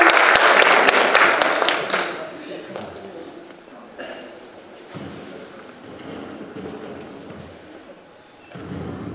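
Loud clapping from an audience for about two seconds, then fading into quieter room murmur and shuffling.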